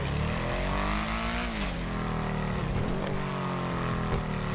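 Obey 8F car from GTA 5 Online with a turbo engine: a loud, steady engine drone whose pitch dips and climbs as the revs shift, close up and without speech.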